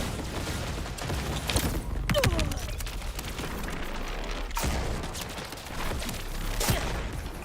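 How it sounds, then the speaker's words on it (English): Artillery fire in the Borderlands 4 video game, with a series of booming blasts and sharp impacts over constant battle noise and a voice talking throughout. "Here comes the artillery."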